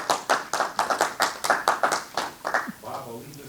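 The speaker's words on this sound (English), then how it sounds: "Let's give him a round of applause" An audience at a coin collectors' show claps to welcome a speaker, a small group's distinct, rhythmic hand claps, close and moderately loud, tapering off as a voice begins to speak.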